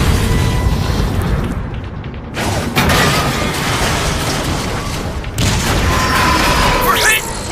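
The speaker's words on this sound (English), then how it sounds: "I repeat, we are under heavy fire!" Heavy gunfire and booming explosions in a Transformers video game, loud dense bursts and rumbling blasts rolling over each other with brief dips, mechanical clatter mixed in and shouted voices over the din.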